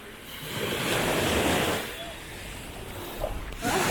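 Waves wash onto a beach at Varazze in a steady, surging roar with wind buffeting the microphone, and voices are heard faintly in the background.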